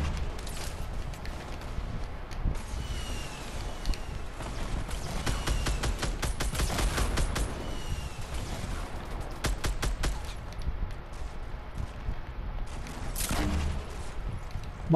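Gunfire in a Fortnite match, with rapid bursts of shots and longer volleys coming and going across the whole stretch amid general game noise.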